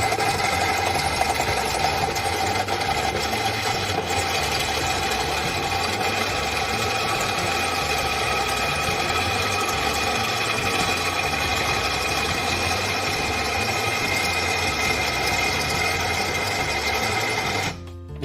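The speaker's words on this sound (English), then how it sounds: "a fully operational elevator" A homemade four-floor elevator running in a dorm room gives a steady, continuous mechanical whir and hum, like a small motor droning without a break for about eighteen seconds, with no voices.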